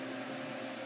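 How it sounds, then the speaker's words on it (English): An electric fan runs steadily at low level in a home workshop, a constant faint whirring hum with no other sounds. "Sorry about the fan, that's the fan that I showed my last update video"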